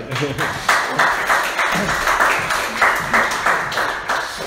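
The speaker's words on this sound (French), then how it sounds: "Merci beaucoup, on peut applaudir Camille." A church congregation applauds during a French-language Sunday service, steady clapping at moderate loudness carrying on for several seconds, with a voice faintly audible underneath.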